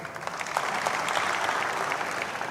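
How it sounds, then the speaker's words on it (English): Graduates at a tech skills program graduation ceremony at Kenyatta University clap for themselves, a short burst of even, moderately loud applause from a crowd in a large room. "Please clap for yourself"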